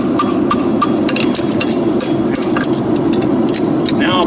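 A hammer flattens a horseshoe around the anvil horn, striking in a brisk, uneven run of close, bright metallic blows that continues throughout over a steady low rumble.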